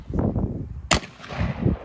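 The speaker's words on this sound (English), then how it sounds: "now we're going to be moving on to 37 Magnum, this 147 grain out of a GP 100" A single sharp, loud report from a Ruger GP100 revolver firing a .357 Magnum 147-grain round into a Spanish M42/65 steel helmet, cracking out near the middle with short rumbling noise before and after.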